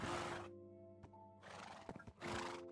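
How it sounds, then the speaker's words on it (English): A horse in the Minecraft video game neighs twice in loud, clear whinnies, with a few soft clip-clop knocks between the calls. "So we have the horse Magnus"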